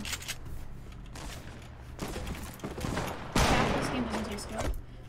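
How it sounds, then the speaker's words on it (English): Video game infantry rifle firing in quick bursts of sharp shots, one loud burst near the middle, under game ambience. "Infantry rifle is nuts."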